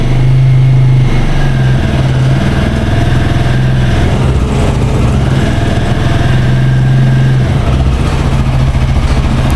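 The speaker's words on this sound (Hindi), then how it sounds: "देखिए यहाँ पर थोड़ा मैं स्पीड को आरपीएम को बढ़ाता हूँ।" A TVS Apache 160 4V Special Edition 2022 motorcycle engine runs loud and close as the rpm is raised, with a steady buzzing drone and a few revs rising and falling.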